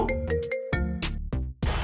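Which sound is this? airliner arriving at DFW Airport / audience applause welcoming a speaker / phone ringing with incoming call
phone ringing with incoming call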